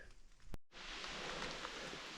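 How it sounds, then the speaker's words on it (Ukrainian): Rain falls in a Carpathian forest, a soft, steady hiss of drops on leaves around the listener, briefly interrupted by a sharp knock before the patter resumes. "Почався знову дощ."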